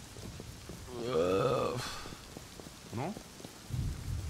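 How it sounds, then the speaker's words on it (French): A video game thunderstorm plays rain hiss and a low rumble of thunder, while a synthetic tone sweeps in the middle and voices speak briefly over it. "C'est cool l'orage là, ça a notre avantage ça."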